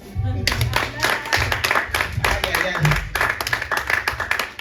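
A church congregation claps and acclaims together, dense rhythmic clapping mixed with cheering voices, loud and sustained throughout.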